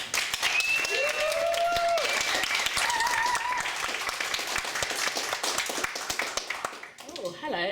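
Audience applause for a feminist poet at a spoken-word night, dense steady clapping throughout with cheers and whoops on top, fading near the end as a voice begins speaking.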